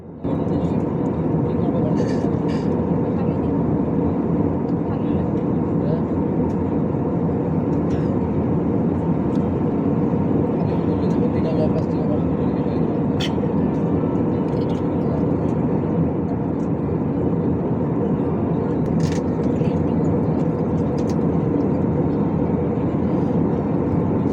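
A Vistara Airlines plane in flight through clouds, its cabin filled with a loud, steady engine and airflow roar that holds unchanged throughout, with a few faint clicks and voices over it.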